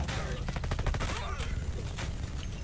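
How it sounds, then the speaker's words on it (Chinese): Rapid machine gun fire in the video game Red Solstice 2 sounds as a fast rattling burst of shots up front. Scattered noisy game effects follow, with players talking over the action. "机枪哦"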